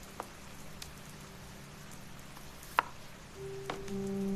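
Soft rain falls on a village house as a faint, steady patter with a few sharper, scattered drops, and a low hum rises near the end.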